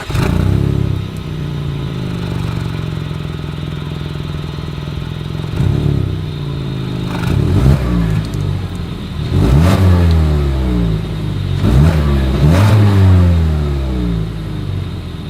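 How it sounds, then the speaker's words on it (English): A Mazda CX-5 with dual exhaust outlets idles and then revs repeatedly, its engine note rising and falling in several close, loud pulls with a steady rumble between them. "As always, here is that exhaust clip."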